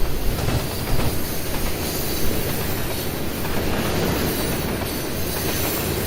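A train running in the Trainz rail game with ex-B&O cabooses in the consist, giving a steady, continuous rumble of rolling cars with faint wheel squeal and clickety-clack, close and unbroken throughout.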